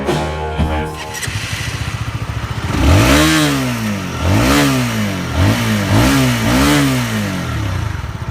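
A Honda CBR 150R motorcycle with a 149cc liquid-cooled fuel-injected engine revs up repeatedly after a short idle, producing several rising and falling throttle blips that sound close and loud with no talking.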